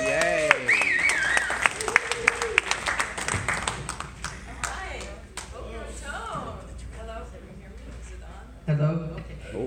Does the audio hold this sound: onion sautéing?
no